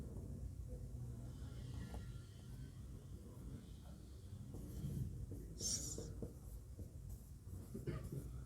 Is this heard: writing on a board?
yes